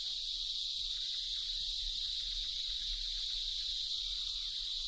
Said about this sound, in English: On each tree there may be hundreds of cicadas and many hundreds of thousands throughout the forest, creating a noise so loud it repels the birds